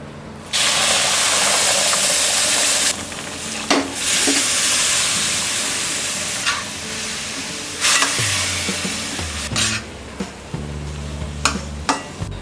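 Hot milk poured onto semolina fried on low heat for mango sheera sets off a loud, steady sizzling hiss that drops off and flares again, broken by scraping stirs and clinks near the end.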